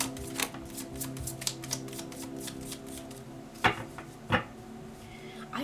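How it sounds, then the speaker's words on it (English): Tarot cards are shuffled in a quiet room, with a run of soft, rapid riffling flicks followed by two sharper slaps as cards fly out. "Oh wow, cards are like flying out."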